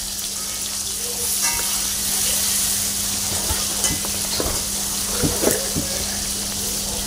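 Salted chunks of tomato fry steadily over a medium gas flame, with a constant loud sizzle and occasional scrapes of stirring in the pan.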